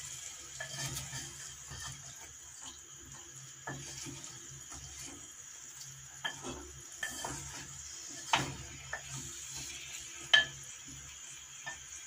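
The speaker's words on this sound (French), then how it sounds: "Remuez une autre fois les aubergines." Aubergines frying gently on low heat being stirred in a pan, with a soft steady sizzle and scattered light scrapes and taps of the utensil, fairly quiet and close.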